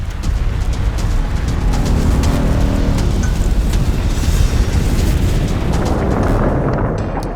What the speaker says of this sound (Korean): 규슈의 기리시마에서는 두 차례에 걸쳐 대형 화산이 폭발했다